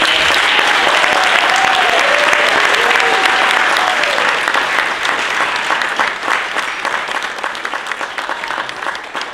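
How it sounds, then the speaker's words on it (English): A city council chamber audience gives loud, sustained applause, dense clapping holding strong before thinning slightly toward the end, with a voice briefly heard over the start. "Please give them another round of applause."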